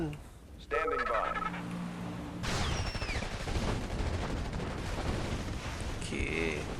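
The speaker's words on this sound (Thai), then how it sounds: "มันมีคนยิงเราอยู่เนี่ย" Rapid bursts of gunfire and explosions from a Command and Conquer Yuri's Revenge battle, dense crackling volleys at middle distance with short unit voice cues and chirps over the din.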